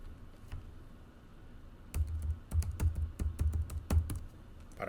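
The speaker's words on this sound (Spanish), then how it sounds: "Voy a teclear un término sencillo." A search term being typed on a computer keyboard: after a quiet start there is a quick irregular burst of sharp key clicks, close and distinct, with no talking.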